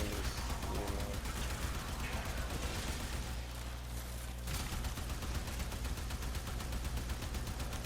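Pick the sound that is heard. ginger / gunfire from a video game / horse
gunfire from a video game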